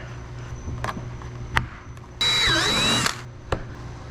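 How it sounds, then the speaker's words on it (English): A power drill whirs for about a second while fitting Mud Busters to a General XP 1000, its pitch dipping as it bites in, among scattered clicks and taps nearby. "I'm gonna just go ahead and drill that one"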